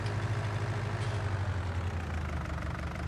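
A video game tractor engine runs as a continuous low, rumbling drone with no gear shifts, steady in level throughout, with no voices over it.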